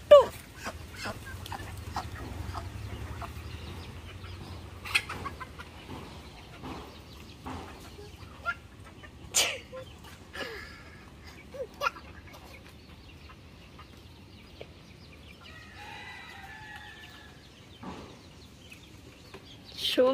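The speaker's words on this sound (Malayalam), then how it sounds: "അത് കഴിഞ്ഞ് ഞങ്ങളൊന്ന് കോഴിക്ക് തീറ്റ കൊടുക്കാൻ വന്നു." Chickens clucking and squawking in short scattered bursts while being fed feed on a Lakshadweep island homestead, with intermittent calls at close to moderate distance over a low background hum.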